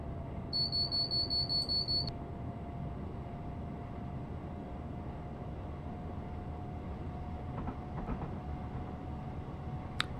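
Class 444 electric train in Train Simulator on the South Western Main Line, a steady low rumble with a constant whine and a short repeated beeping signal near the start.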